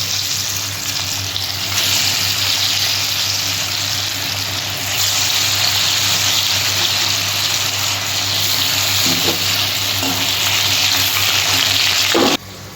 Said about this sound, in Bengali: একে একে সমস্ত ধোকাগুলো আমি ভেজে নেব।